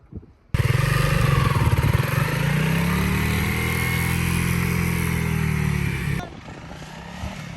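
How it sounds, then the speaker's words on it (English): A Honda CRF300L Rally motorcycle shifts down from second to first gear while braking with the rear brake. The single-cylinder engine cuts in abruptly, drones loud and close for several seconds, then drops away sharply. "I'm going to show you guys what going from second gear to first gear only using the back brake is going to do for you."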